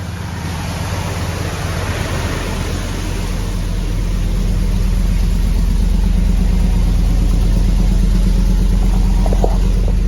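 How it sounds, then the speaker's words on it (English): A Hemi V8 swapped into a Grand Wagoneer runs steadily outdoors, its low even engine drone close and loud, rising slightly in level after a few seconds and holding a constant idle-like hum. "The motor sounds good though, sounds happy."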